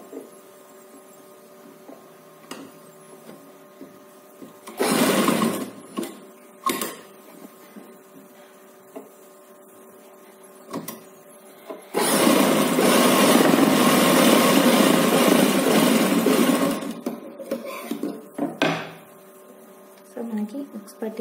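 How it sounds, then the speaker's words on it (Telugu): A sewing machine stitching fabric for a baby frock runs in a short burst and then a longer continuous whir, close and steady, with quieter room hum and faint handling between the runs. "సో దీన్ని ఇలా బ్యాక్ సైడ్ ఫోల్డ్ చేసి నీట్గా స్టిచ్ వేస్తాం."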